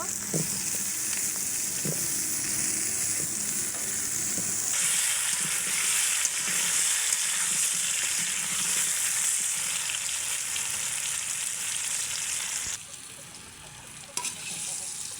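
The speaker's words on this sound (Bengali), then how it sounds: "এখন আলুগুলো আগে ভালো করে ভেজে নেব" Potatoes fry in a hot pan as the first step of a beef curry with whole garlic, giving a steady, close sizzle that runs unbroken throughout, briefly dropping lower near the end.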